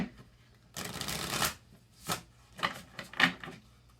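Oracle cards from a Divine Circus deck being shuffled by hand, a long riffling burst followed by several shorter shuffles, close and fairly loud in a quiet room.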